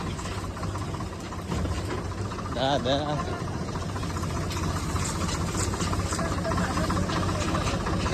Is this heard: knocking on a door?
no